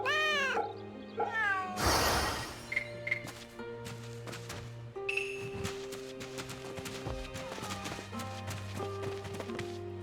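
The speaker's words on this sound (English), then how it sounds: "猫だな。 Kitty." A cat in the samurai video game Fate/Samurai Remnant meows several times, clear and close, with a few short bursts and game music and effects running under it.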